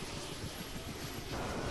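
A jet aircraft engine in the military video game Arma 2 gives a continuous roaring whoosh with a thin high whine on top, steady and fairly loud throughout, with no voices.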